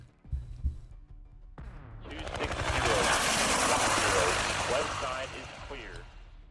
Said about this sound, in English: Now that the helicopter is in the air